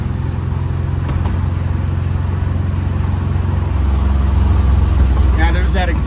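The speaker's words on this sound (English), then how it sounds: "there's that exhaust leak" A supercharged Gen 5 M90 car engine idles with a steady, rough, low rumble and rapid ticking puffs from a leaky exhaust, close and loud throughout.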